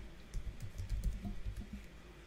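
Quick, light keystrokes on a computer keyboard, a short close-up run of typing with no speech.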